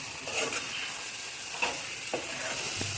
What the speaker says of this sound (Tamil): எல்லாம் சேர்ந்து இந்த மாதிரி கொதிச்சுட்டுருக்கு